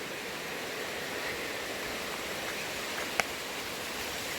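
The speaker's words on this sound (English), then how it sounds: "Nice waterfall right there." A waterfall beside a new bridge on the Appalachian Trail, a steady broadband rushing hiss that stays constant, with one brief click near the end and no talking.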